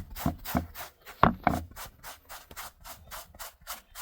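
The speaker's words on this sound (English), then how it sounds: "what I like to do is just start rubbing off the image." An old t-shirt rubs an old DTF print off a garment, making a series of rhythmic scrubbing strokes, evenly spaced and fairly close, with a couple of sharper scuffs partway through.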